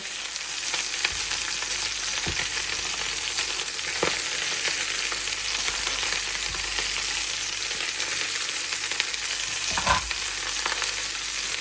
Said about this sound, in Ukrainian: Заклали цибульку нарізану і закладаю вілочку розмарина. Перемішуємо і даємо прожаритись буквально 1-2 хвилину.